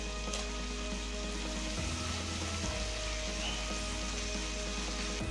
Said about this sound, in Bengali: এবার দিয়ে দেবো সেদ্ধ করে রাখা মোচা।